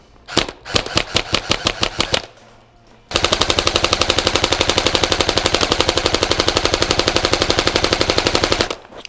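An airsoft Centurion M4 fed from a black Amarok 250-round mid-cap magazine with a clear top, firing a short burst, pausing, then a long sustained full-auto string of sharp, loud, close shots.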